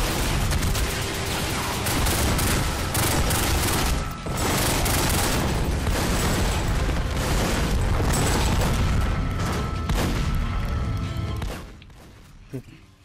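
Sustained gunfire in The Godfather video game during an assault on the Tattaglia family compound, a dense, loud barrage of overlapping shots and booms lasting about ten seconds before dying down, with voices mixed in.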